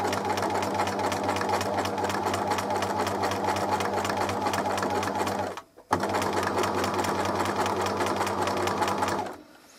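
A sewing machine stitching embroidery runs at a fast, even mechanical whir, pauses briefly in the middle, then resumes before stopping near the end.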